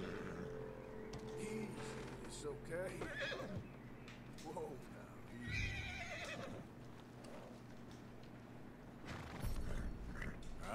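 A horse in Red Dead Redemption 2 neighs and whinnies in several bursts, with clip-clopping hooves and mechanical rattles in between, moderately close over a low steady hum.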